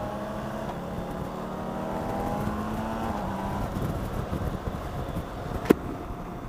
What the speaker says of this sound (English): Like I said, it's a 6-cylinder, so of course I'm going to love this engine. Big ol' inline 6.